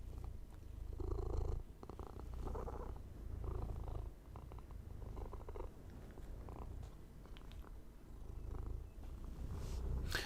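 A cat purrs close up in a steady, rumbling rhythm of soft inhale and exhale pulses repeating for the whole stretch, quiet and alone with no talk.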